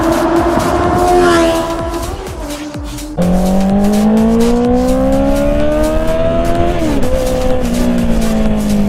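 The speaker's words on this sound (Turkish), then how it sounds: "full sistem Two Brothers takıyorum abi." A motorcycle with a full Two Brothers aftermarket exhaust revs hard with a raspy, throaty sound, pitch climbing and dropping through gear changes, close and continuous.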